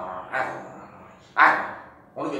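A voice imitates dogs fighting over a bone, giving three loud snarling, barking bursts separated by short pauses.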